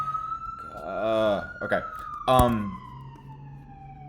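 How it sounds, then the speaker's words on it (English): A siren passes outside, a steady wailing tone that gradually falls in pitch as it moves away, heard under someone talking indoors. "there's like a siren. I don't know if you can hear it."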